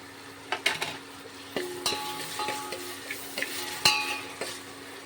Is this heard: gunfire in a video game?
no